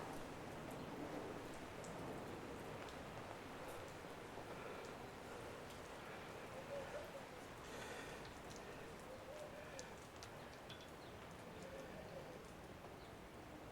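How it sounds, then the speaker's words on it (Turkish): Soft, steady patter of light drizzle at a seaside park in Yeşilköy with a constant hiss, faint birds chirping now and then in the background. "yağmur boşalır birazdan diyeceğim ama zaten çisil çisil yağıyor"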